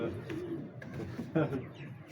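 Soft coos of domestic flying pigeons, a couple of low throaty calls, heard faintly against background chatter.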